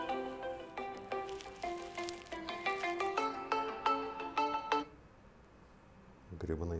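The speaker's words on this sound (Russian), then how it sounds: "Так, это мой телефон или нет?" A mobile phone ringtone plays as a quick melodic run of bright electronic notes for close to five seconds, then cuts off, and a voice follows.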